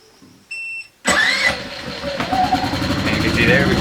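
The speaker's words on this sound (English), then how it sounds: "it'll idle itself down and be much more quiet" An Ecoflow generator engine cranks and catches after a short electronic beep, then settles into a steady, loud, near idle in eco mode, running alone without voices over it.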